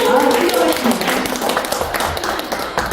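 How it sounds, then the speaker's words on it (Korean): Audience in a Korean university lecture room during a poetry recitation class breaks into sustained applause, a dense wash of many hands clapping throughout, with a voice speaking over it at the start. "저희 여기 모두 계신 분들 본인 자신들을 위해서 우리 큰 박수 한번 치워볼까요?"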